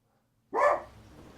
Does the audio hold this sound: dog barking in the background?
yes